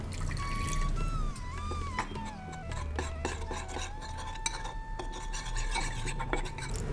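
A spoon stirs cornflour batter seasoned with salt and pepper and thinned with water, clinking steadily against the bowl in a kitchen. The stirring scrapes and taps on without a break, and a faint background tone sounds throughout.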